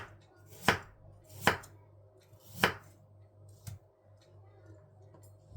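A knife chops apples into small pieces for an apple cake, a few sharp, distinct thuds on a board spaced about a second apart, close and clear against a quiet room.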